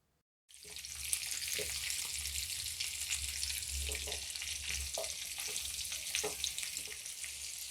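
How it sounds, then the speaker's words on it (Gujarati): Carrot, radish and chili pieces sizzle steadily in hot oil for an instant mixed pickle, with a constant soft frying hiss and occasional stirring clinks. "આપણે ગાજર, મૂળા અને મરચાંને વધારે ફ્રાય નથી કરવાના, થોડા કાચા રહે એ રીતે જ આપણે ફ્રાય કરીશું"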